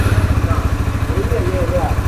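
A 2026 RTR 160 4V motorcycle with a TFT display runs in sport mode after starting, its engine idling in a steady, close, throbbing pulse with faint talk in the background.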